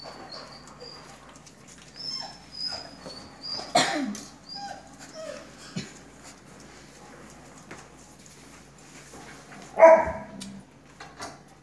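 A puppy whimpers and yelps in scattered short bursts, with high whines and one louder bark-like cry near the end, fairly close amid quiet room background.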